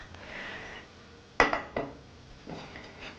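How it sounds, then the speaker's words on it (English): A frying pan set down on a stove top before frying root vegetable rosti gives one sharp, close knock, followed by a lighter clatter and a soft scrape, with no talking. "I'm putting the pan on"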